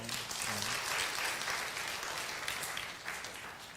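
A church congregation applauds during a Korean worship service after a poem is read. Many hands clap in a fairly loud, dense burst that gradually thins and softens toward the end, with a voice briefly heard at the start.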